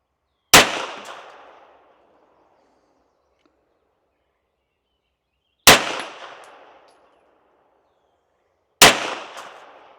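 Three loud, sharp pistol shots from a handgun fitted with a Holosun 507c red dot sight, spaced several seconds apart, each cracking sharply and then ringing out into silence.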